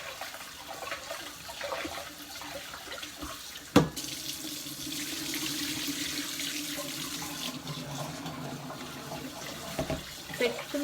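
Tap water runs steadily into a sink or bowl while rice and lentils are washed together for kichadi, with a sharp clatter near the start and a continuous rushing stream after it.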